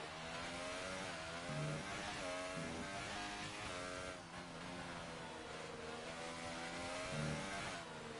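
Onboard a race car on a quick lap at the German Grand Prix, the engine droning steadily with rising and falling pitch through gear changes and corners, loud and continuous with no voices.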